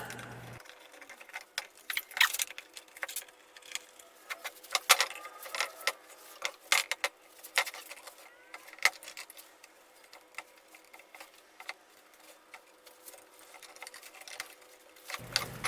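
A power saw cuts a wooden board for a model railroad layout, giving a faint steady buzz with rapid fine ticking and small uneven rattles throughout, no voices.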